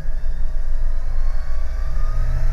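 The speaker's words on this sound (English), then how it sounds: "Rotax is spooled up." A Rotax engine on a Flight Design F2 light-sport aircraft holds at high takeoff power, a loud, steady droning hum with a low throb, heard close up from the cockpit with no talk.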